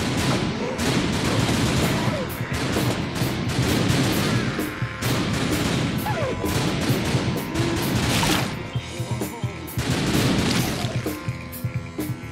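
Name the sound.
gunfire in the video game The Typing of the Dead: Overkill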